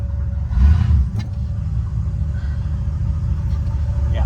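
A 1979 Chevrolet Camaro idles low and rumbling as it backs up in reverse, a steady close engine drone that swells briefly near the start, with a faint knock partway through.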